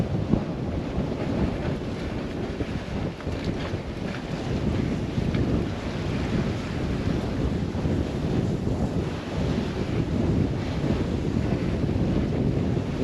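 Strong northwesterly wind buffets the microphone aboard a Morgan 382 sailboat at sea, a loud continuous roar with rushing water and waves beneath it.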